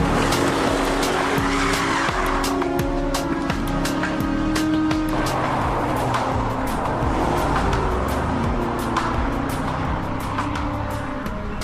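A speeding car races past in a roadside police pursuit, engine roaring with tire squeal and skidding, loud and continuous throughout with sharp transient hits.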